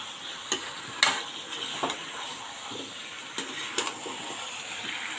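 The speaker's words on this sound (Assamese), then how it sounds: "এনেকৈ আলুখিনি দি ভালকৈ মিহলাই লৈছোঁ" Chicken meat and potatoes stirred together in a pan for a home chicken curry, a soft continuous sizzle broken by a few scraping, clinking strokes of the spoon, close by with no talk.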